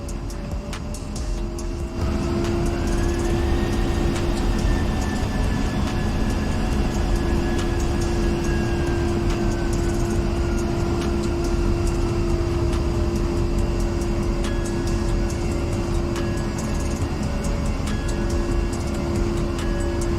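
A-10C Warthog jet taxiing in the DCS World flight sim over the Persian Gulf, a loud steady turbine roar with a constant whine and a slowly rising then falling tone, continuous and close, no talking.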